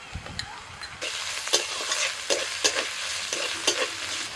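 Onion, garlic and ginger fry in a pan for a jackfruit filling, a steady sizzle broken by several sharp scraping stir strokes, close and alone with no talk.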